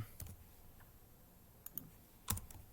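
Typing on a computer keyboard while writing React code: a few sparse, quiet clicks and taps spread out in short bursts, with a louder cluster of keystrokes near the end and no voice.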